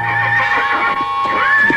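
A horse whinnies close by in a long, shrill, wavering neigh, with faint shuffling underneath.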